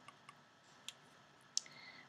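Flute keys under repair, tapped in a few faint, sparse clicks close to the microphone, one sharper click near the end, over a quiet background.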